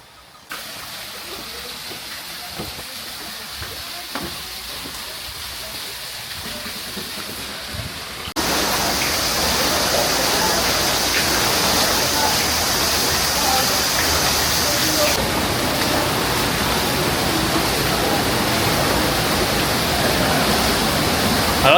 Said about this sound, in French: on va direction la cascade